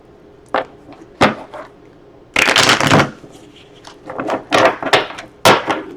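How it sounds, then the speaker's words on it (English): A tarot deck is shuffled by hand in several quick riffles and snaps, some short taps and a longer burst of flapping cards, close and crisp with no voice over them. "Okay, 3 more shuffles."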